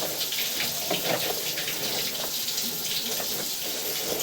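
Water runs through an open drain pipe at a residential property in Bellevue, Kentucky: a soft, continuous rushing and trickle, fairly faint and steady, with no voices.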